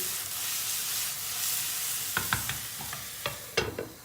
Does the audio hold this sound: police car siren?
no